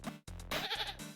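Goat bleating in the video game Little Goody Two Shoes, a few short close bleats in quick succession, loud and clear with no talking over them.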